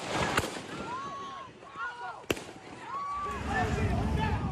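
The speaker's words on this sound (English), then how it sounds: "From the ground, he opened fire." Gunshots fired by a gunman in a street during a protest: two sharp, isolated cracks about two seconds apart, heard amid crowd noise and raised voices.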